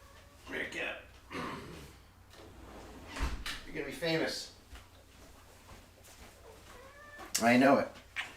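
A cat wanting to come into a room meows a few times among scraping, drawer-like and door sounds, with a voice talking nearby.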